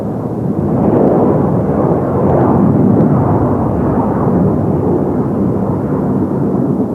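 A space plane takes off with a steady, thunder-like roar, a dense broad rumble that swells in the first second and holds loud and unbroken throughout, with no voices.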